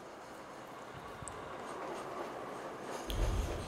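A tram rolls past in the video game The Thaumaturge, a steady rumbling rail noise with faint squeals that swells into a heavier, closer rumble near the end.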